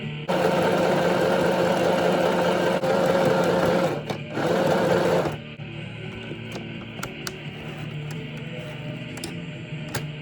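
Sewing machine stitching a tank top, running in loud steady bursts with brief pauses, then stopping, followed by quieter faint clicks and handling sounds.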